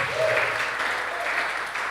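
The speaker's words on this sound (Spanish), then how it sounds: "Denles un fuerte aplauso." A church congregation claps loudly together, a dense, continuous burst of applause filling the room, briefly overlapped by a voice early on.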